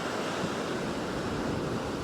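Fierce ocean surf pounds steadily against the shore, a dense continuous roar of breaking waves with some wind buffeting the microphone throughout.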